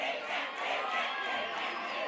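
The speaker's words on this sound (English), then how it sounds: "you're hearing the D's hands chant for Deandra Anderson popping off right now" A crowd chants at an Athena's Arena event, rising in steady rhythmic pulses as a broad, roaring wash of massed voices.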